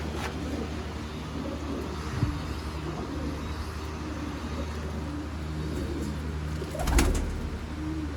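A pair of dab pigeons coos softly in a loft, low repeated calls over a steady background hum, with a brief louder rustle near the end.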